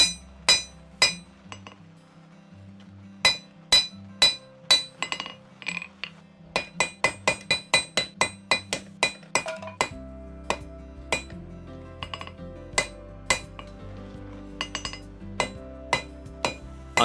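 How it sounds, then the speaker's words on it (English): A hand-forged bowie knife handle on wide bar stock is struck repeatedly with a hammer, crisp metallic ringing blows in quick runs and slower spaced hits, close and loud. "I can avoid hammering into the blade as opposed to hammering into the handle"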